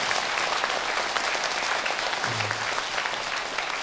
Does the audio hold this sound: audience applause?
yes